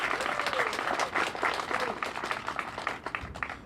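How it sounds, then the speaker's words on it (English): A crowd applauds San Francisco Mayor Breed at a celebration, sustained full clapping with a voice faintly audible beneath. "we have to give her the round of applause."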